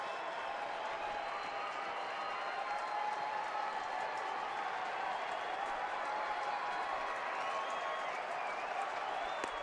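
A baseball stadium crowd in Arizona roars in a steady, continuous wash of cheering and clapping throughout, distant and unbroken, with no talk standing out above it.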